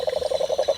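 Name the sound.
cane toad croaking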